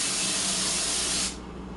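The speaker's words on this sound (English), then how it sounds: "I'm going to spray this on the sink." Cooking spray hissing from an aerosol can onto a sink, one loud, steady, close burst lasting just over a second, then cutting off to quiet room noise, with no talking.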